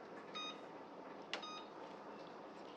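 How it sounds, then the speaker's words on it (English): A kitchen timer beeps while noodles cook for beef stroganoff, two short bursts of thin, high electronic tones, faint and distant against a low hiss of room noise. "Our timer is going for our noodles."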